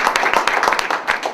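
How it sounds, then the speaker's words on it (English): Scattered hand clapping from an audience at a community event, a few distinct claps coming at an uneven rhythm, fairly close and loud, lasting only a moment. "Why don't we clap afterwards?"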